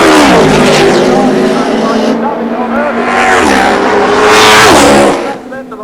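A drag racing motorcycle revs hard at the start line at Santa Pod Raceway in 1990. The loud, sustained engine roar swells and dips, and a commentator talks over it throughout.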